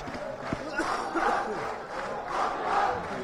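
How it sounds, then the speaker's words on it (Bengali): Students cheer a student union election victory inside the Kazi Nazrul Islam auditorium of a university, a loud crowd chanting and shouting in rising waves. "বিশ্ববিদ্যালয়ের কাজী নজরুল ইসলাম মিলনায়তনে ধ্বনিত হল দীর্ঘ অপেক্ষার বিজয়ের উল্লাস"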